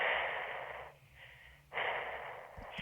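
Heavy, loud breathing over a phone line in a song, two long rasping breaths separated by a short quieter pause.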